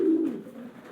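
Pigeons on a home rooftop give a single short, low, close coo that fades quickly.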